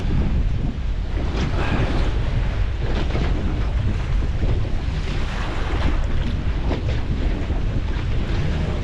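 Strong wind at sea off Perth on a small boat used for lobster fishing, roaring continuously into the microphone with waves and water rushing beneath, loud and unbroken.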